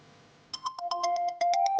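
A phone rings with a bright electronic ringtone, a quick run of repeated melodic beeps that swells up loudly out of near silence, with no talking.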